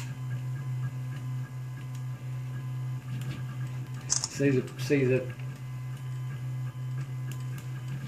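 A homemade 3D printer runs with a steady low hum and faint ticking. A person speaks briefly partway through.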